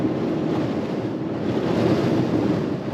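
Strong gusts buffet the microphone outdoors beside a 1965 VW Beetle, a loud, steady low rumble of wind noise that swells and eases slightly throughout, with no talking.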